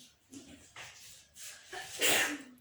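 A single sharp sneeze near the end, preceded by a couple of quick breaths and a faint voice.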